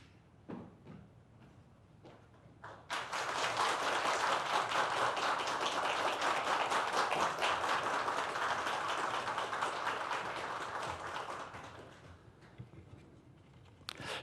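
A church congregation at a Sunday service bursts into warm, sustained applause for about nine seconds after a few scattered claps, dense and fairly close, then fades out.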